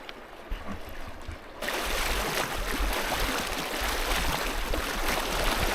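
Stream water being waded across near a mountain campground on the Snodgrass Trail, heard as a steady, close rushing and trickling wash that grows louder and denser partway through and then continues unbroken.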